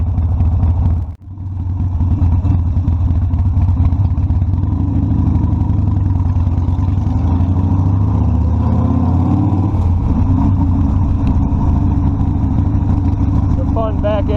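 Harley Davidson Sportster Custom 1200 motorcycle idling and revving, a loud, close, throbbing exhaust that echoes off surrounding concrete and holds steady throughout, with a brief dip near the start.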